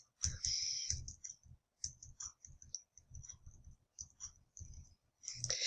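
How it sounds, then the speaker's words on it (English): Mouse clicks come in a quick, sparse series, soft and close, while someone works through student-management software. There are short pauses between the clicks and no other sound. "click on the plus"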